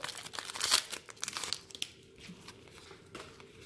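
A sealed Pokémon trading card booster pack wrapper is torn and crinkled open up close, with sharp foil rips at first easing into softer rustling and no talking.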